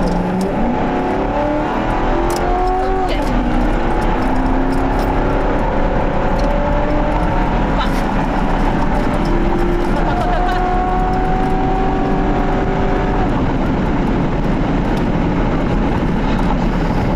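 Stolen police car driven in a video game, engine tones rising and falling through several gear-like sweeps over a constant broad road roar, steady and fairly loud with no talk.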